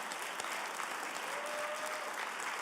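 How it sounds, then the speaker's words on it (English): Audience applause at a justice awards event after a call to honour strikers and arrestees, steady dense clapping filling the room, moderately near and even throughout. "Let's give ourselves a round of applause."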